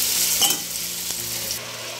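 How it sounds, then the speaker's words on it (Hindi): Onions frying and being stirred in a pan for a mutton dish, a steady close sizzle with a spatula scrape, no talking. "और इधर अनियन भून रही हूँ।"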